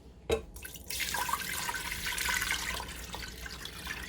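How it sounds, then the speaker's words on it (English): Water running from a kitchen tap into a pot, a sharp clink followed by a steady close rush of flowing, splashing water that keeps going to the end. "we're going to take a pot and we're going to fill it full of water"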